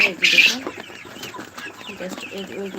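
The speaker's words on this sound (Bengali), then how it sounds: "আমি কিছুক্ষণ আগে মুরগিগুলোকে খাবার দিলাম দেখতে পাচ্ছেন" Tiger-breed chickens cluck and squawk nearby while eating freshly given feed at night, with a loud burst of calls at the start followed by softer scattered clucks.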